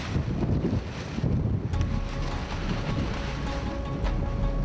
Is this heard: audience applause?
no